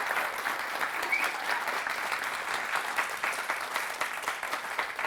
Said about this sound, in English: please give Dr. Romel a round of applause